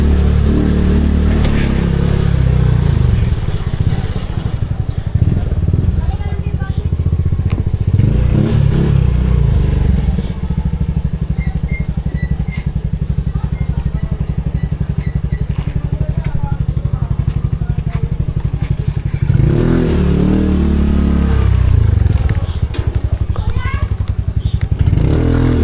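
Loud motorcycle engine rumbling close by on a narrow village path, swelling and fading as it passes, with rattling and scraping mixed in.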